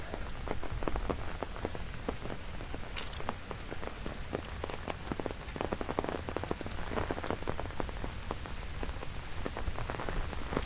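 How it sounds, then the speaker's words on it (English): Rain from Typhoon Merbok falls on Victoria Peak in Hong Kong, a constant close hiss of drops pattering on surfaces, with many sharp individual splats and no speech. "There's not a lot of rain yet."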